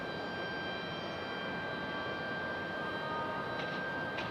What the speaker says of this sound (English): Small Exec jet on the move.